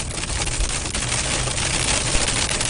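Dense, relentless hail hammers a car body during a storm chase in March 2025, a loud, continuous clatter of rapid hard impacts, like gunfire, with no voices.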